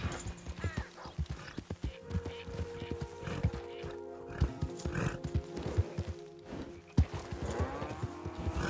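Horse hooves clip-clopping at a gallop in Red Dead Redemption 2, steady rapid hoofbeats with an occasional whinny over game ambience, loud and close throughout.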